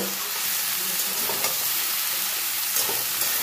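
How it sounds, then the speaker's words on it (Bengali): Food frying in a pan is stirred steadily, a dense, continuous sizzle with soft scraping running throughout, fairly close and with no talk over it. "আবার একটু নাড়াচাড়া করে নেব"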